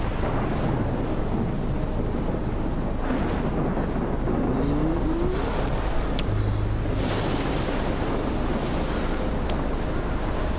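Stormy weather in the video game Life is Strange, a continuous heavy roar of wind and rushing noise with a few faint rumbles and clicks, loud and unbroken throughout.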